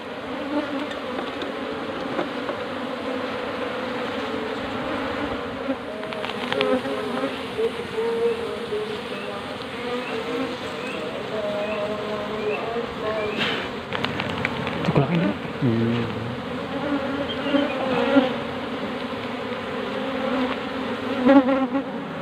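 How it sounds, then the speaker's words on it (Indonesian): Many bees hum around an opened hive in a dense, continuous swarm drone, steady and close, with occasional louder swells as individuals pass nearby. "tinggal lebah-lebahnya itu masih banyak"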